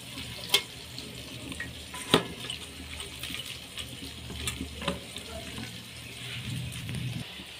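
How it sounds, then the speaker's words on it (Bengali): Onions fry with green chillies and chopped tomato for a goat meat curry, a low, steady sizzle with a few sharp clicks of a utensil and soft stirring, moderately close and fairly quiet. "কাঁচা লঙ্কাগুলো দিয়ে দিচ্ছি, টমেটো কুচি দিয়ে দিচ্ছি,"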